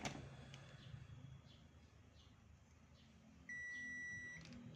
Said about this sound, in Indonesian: Saya akan rubah ke mode buzzer pengukuran short ya.